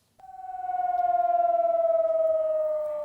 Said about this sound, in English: Sirens rang through the night as police shut the Brnjac and Jarinje border crossings in northern Kosovo.